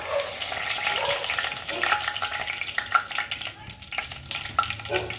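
A bay leaf drops into hot oil left from frying koftas, crackling and sizzling up close with stirring scrapes and small pops throughout.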